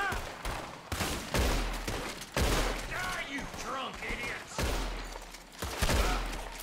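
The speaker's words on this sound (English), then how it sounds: "I shot him in the head" Gunfire in the Red Dead Redemption 2 video game, several sharp booming shots spaced a second or so apart, mixed with game voices talking between the blasts.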